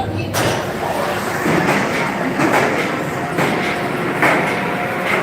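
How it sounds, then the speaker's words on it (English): Roller coaster train dispatching at Busch Gardens Tampa, heard as a steady rumble with rail clatter and brief hissing bursts, fairly loud and close, with no talk over it. "Oh, looks like this train's dispatching."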